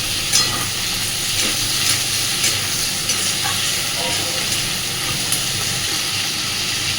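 Thick-cut potatoes fry and sizzle in a pan with the other ingredients for a small-fish curry, giving a steady, loud hiss with repeated scraping stir strokes throughout.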